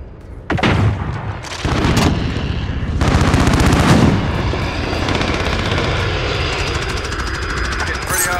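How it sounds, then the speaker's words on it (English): Incoming gunfire crackles in a video game as rapid machine-gun bursts and heavy booms come in loud and close over a steady aircraft engine drone, with a voice speaking over the noise. "Taking some fire."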